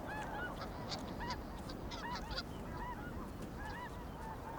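A flock of wild geese at a nesting ground in Russia's frozen north honks repeatedly at a moderate distance, the calls overlapping above a steady outdoor background.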